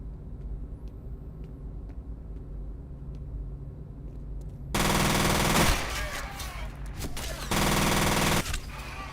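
Bursts of rapid automatic gunfire from the video game F.E.A.R. on Xbox Series X, two loud sustained volleys following a quieter stretch of low game ambience with a few faint clicks.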